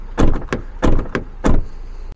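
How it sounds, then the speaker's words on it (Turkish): Three separate heavy thunks about half a second apart, each with a short mechanical click, as a Fiat Egea Cross car door is opened and shut nearby. "Kapı seslerimiz bu şekilde."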